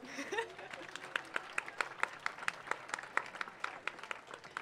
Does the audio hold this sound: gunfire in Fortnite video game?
no